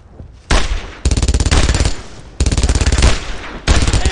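An MG42 machine gun fires in a Brothers in Arms WWII battle, loud rapid bursts of a second or more each, cut by brief pauses, close and dominant with no voices.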